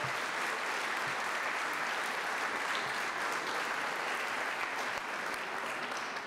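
A seated audience applauds Virginia Athletics Foundation staff at a celebration of a 1976 ACC championship team and coach, steady dense clapping filling the room for several seconds without pause, heard from within the crowd.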